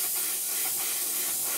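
An airbrush sprays paint in light passes over the undersides of a Seafire model, a close, steady hiss with slight rises and falls.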